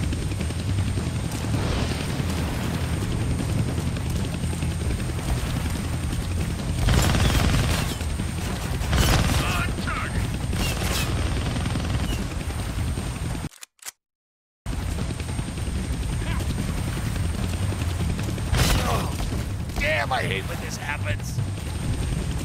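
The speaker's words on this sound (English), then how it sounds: "Kill that chopper with my guns," A helicopter in the video game Deadpool drones steadily through a dense, noisy game mix, with bursts of gunfire, a voice talking, and a brief dropout of silence midway.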